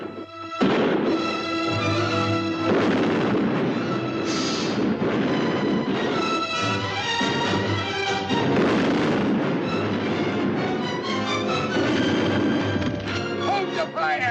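Gunfire erupts in a 1954 pirate adventure film set on a beach, as heavy booming shots and blasts pile up over dramatic orchestral music and shouting voices, loud and continuous across the scene.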